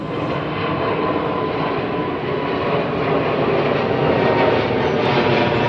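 A departing airliner at London Heathrow, heard as a loud, steady, broadband jet roar that builds slightly toward the end, with no voices.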